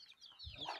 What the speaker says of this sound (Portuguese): A choca com os pintinhos.